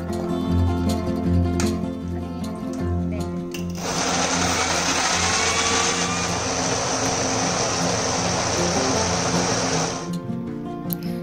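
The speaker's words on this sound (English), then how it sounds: "Put it in the blender." Electric blender whirring loudly and steadily for about six seconds as it purees cooked, cooled mushrooms for soup, starting and stopping abruptly amid quieter kitchen hum.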